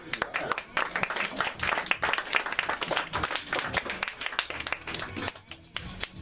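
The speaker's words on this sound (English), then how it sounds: "You can applaud anytime." An audience at a magic show applauds a rope trick with dense, bright clapping that swells and fades over several seconds, close and lively, with a few scattered voices mixed in.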